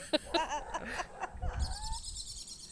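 Birds call and chirp in short bursts, then a steady high twittering song continues through to the end, fairly close with faint background noise.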